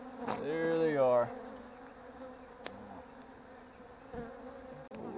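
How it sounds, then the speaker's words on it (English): Wild honey bees swarm around an open hive, a steady close buzzing with louder passes of individual bees near the listener. "these bees are a little mean"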